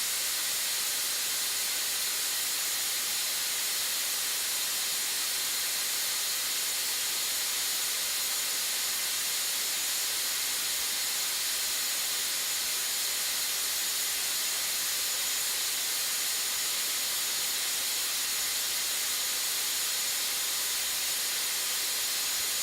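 SmartPRV pressure relief valve held fully open at rated capacity, venting steam in a loud, unbroken, constant broadband hiss with no pauses.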